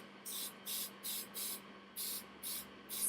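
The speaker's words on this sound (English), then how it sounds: "spray, make sure you get all your nails, and then let that dry too" An aerosol can sprays onto fingernails in seven short bursts of hiss, evenly spaced, close and fairly quiet.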